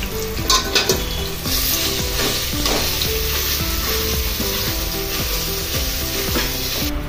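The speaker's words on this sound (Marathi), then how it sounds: "हा मी आत खवा सोडते. याला तुपात चांगले मी परतून घेते." Khoa sizzles steadily as it is sautéed in hot ghee, with repeated scraping and stirring strokes of a spoon against the pan throughout, loud and close with no voices.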